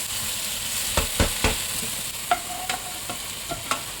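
Metal utensil scraping and tapping in a non-stick pan of caramelising cauliflower, several sharp clinks and scrapes spaced over a constant frying sizzle, close and alone.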